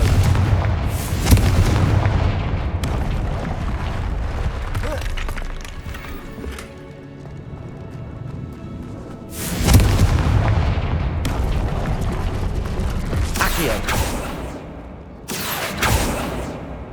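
Booming fire-spell blasts from the video game Hogwarts Legacy erupt in a few loud, crackling bursts over a busy, dense game soundscape.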